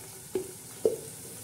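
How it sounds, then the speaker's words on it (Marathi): Masala cooking in a pan gives two short sizzling, stirring bursts over a low steady background hiss, close by, with no talk. "छान असा हा मसाला आपला शिजत आहे"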